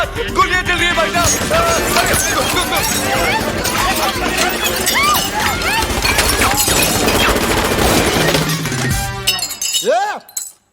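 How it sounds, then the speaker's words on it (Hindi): Loud gunfire and shattering glass effects in a Hindi comedy scene with Ajay Devgn and Johnny Lever, dense and chaotic with music, fading out abruptly near the end. "गोलियां कौन चला रहा है रे?"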